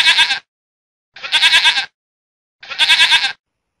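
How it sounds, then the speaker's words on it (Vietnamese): A goat bleats three times, loud and close, each cry a wavering bleat of under a second separated by even pauses of silence. "Con dê."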